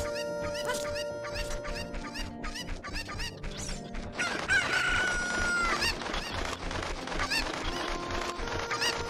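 Chickens and a rooster in Ocarina of Time, a rapid chorus of clucks and squawks running throughout, with a loud, sustained cock-a-doodle-doo crow rising over the flock midway.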